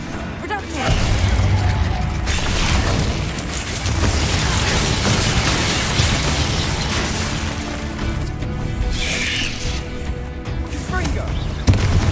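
Reductio spell blast in Hogwarts Legacy amid fast combat, dense booms and crackling impacts layered over game music, with a voice casting spells.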